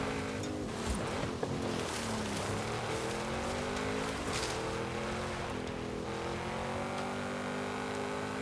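Car engine in Forza Horizon 5, droning steadily at sustained high revs with shifting pitch bands, loud and continuous throughout, with no talk over it.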